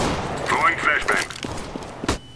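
A flashbang is thrown during a competitive Counter-Strike: Global Offensive match on Dust II, with busy game noise, gunfire-like pops and one sharp broadband burst near the end, while a player talks over it.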